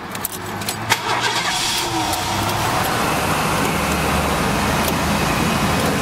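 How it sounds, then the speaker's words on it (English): A 1985 Ford LTD station wagon with 68K miles cranks and starts with a few clicks and a short starter whir, then settles into a steady, loud idle that continues close to the microphone. "Let's start this car up here."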